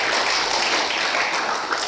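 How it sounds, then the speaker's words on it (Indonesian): Church congregation applauding during a sermon on family restoration, a steady, dense wash of clapping filling the room without pause. "Bisa berikan tepuk tangan buat Tuhan."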